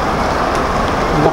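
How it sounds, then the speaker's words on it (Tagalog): A brief, loud burst of heavy rain pouring down at the market in Tagkawayan, Quezon, Philippines, an unbroken wash of hiss with no speech. "Ang lakas ng ulan."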